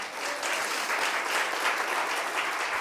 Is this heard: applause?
yes